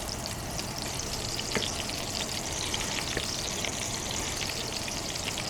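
Meatballs frying in a pan, a steady dense crackle and sizzle with faint pops throughout, fairly even in level and heard alone without talk.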